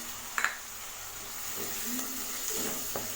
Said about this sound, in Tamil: தக்காளி நல்லா வதக்கி விடுங்க